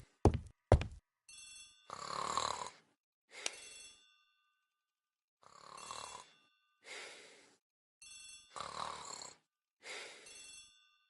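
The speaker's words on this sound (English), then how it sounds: "The telephone in the hall is ringing." Old-fashioned telephone in a hall ringing in repeated double bursts with silent gaps between them, clear and close, no talk.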